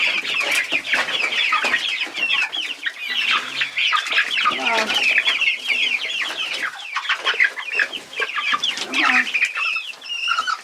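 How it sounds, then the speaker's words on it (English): Young chicks cluck and cheep constantly in a backyard run on their first time outside, a busy, close chorus of high chirps with occasional wing flaps and a brief spoken voice. "The chicken."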